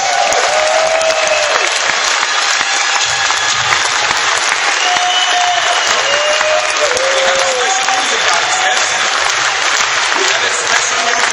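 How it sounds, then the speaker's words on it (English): A large summit crowd gives sustained, loud applause, a dense continuous roar of clapping with scattered whoops and cheers rising above it throughout. "So give a big hand of applause and help me to get Miss Ruth Höfer on stage."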